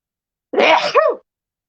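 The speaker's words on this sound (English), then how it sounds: "I have a sneeze." A single loud, close sneeze: a short sharp burst followed by a voiced tail, then silence.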